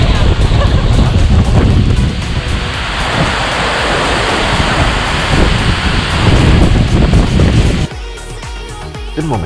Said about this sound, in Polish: bryza wody przejęła kontrolę nad wszystkimi dźwiękami